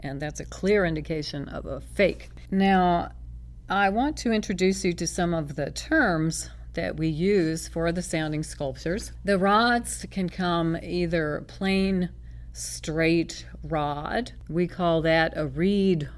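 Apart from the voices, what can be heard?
No everyday noise stands out behind the speech.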